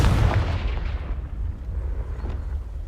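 A Confringo blasting spell explodes in Hogwarts Legacy, a loud booming blast up close that hits at once and then rolls off into a long, rumbling tail.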